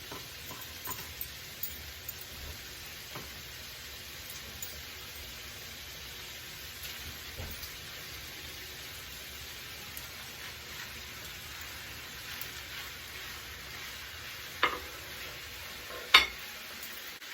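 Diced onion sizzles quietly in a pan as a soft, even hiss. A few faint clicks and stirring taps stand out, with a sharper knock near the end.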